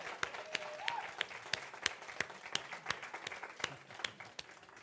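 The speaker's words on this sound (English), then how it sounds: "Can we give Sheila another round of applause?" Applause from an audience at a Sunday church celebration, thinner and fairly quiet, with scattered sharp individual claps standing out from the steady patter for the full few seconds.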